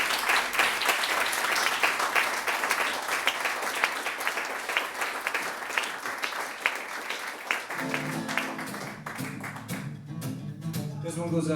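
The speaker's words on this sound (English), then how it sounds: "a big round of applause for everyone at Songs and Whispers" A concert audience at a Songs and Whispers show applauds, sustained clapping that thins out toward the end as a few instrument notes begin to ring.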